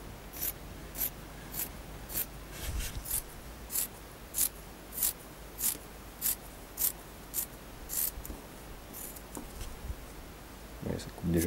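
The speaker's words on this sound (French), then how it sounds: "des ciseaux normaux sont suffisants pour le carbone" Ordinary scissors snipping a carbon fibre plate, a steady run of short crisp cuts repeating about every half second, close and fairly quiet.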